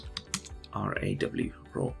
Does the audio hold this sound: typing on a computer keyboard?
yes